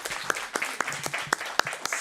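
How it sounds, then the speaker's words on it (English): A small group claps at a live morning workshop meetup, producing sparse, uneven individual claps, moderately close and fairly light, with a few sharp distinct hits over soft background noise. "Clap that up"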